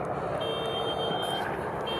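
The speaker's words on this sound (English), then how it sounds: "That's my car alarm." A car alarm sounds steadily and somewhat faintly in the background, a continuous electronic tone with a high whine running through it, with no voices over it.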